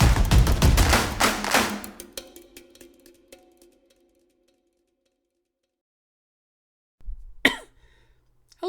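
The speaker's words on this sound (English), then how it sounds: "Post-cough." A person gives a short burst of harsh coughing up close, which fades into near silence, followed a few seconds later by a brief thud.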